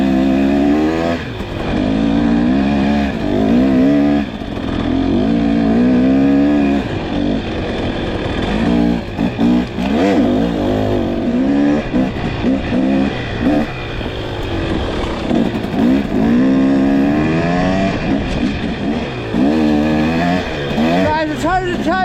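A 2023 KTM 300XC dirt bike on spike tires revs hard as the rear wheel spins through deep snow down to frozen dirt, the engine rising and falling continuously and loud, with a person talking over it throughout.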